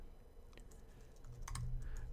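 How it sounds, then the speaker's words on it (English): Fingers type quickly on a computer keyboard, producing quiet, irregular clicks and taps that grow slightly denser toward the end, heard alone. "So I was typing too quickly for it."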